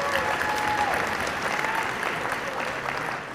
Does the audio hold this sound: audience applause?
yes